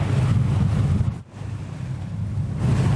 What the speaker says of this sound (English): Oh, feel the wind.